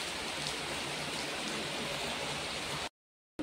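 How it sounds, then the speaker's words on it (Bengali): Very heavy rain pours down in a dense, steady roar close by, filling the air with an even hiss of drops before cutting off abruptly near the end. "মারাত্মক জোরে বৃষ্টি হচ্ছে।"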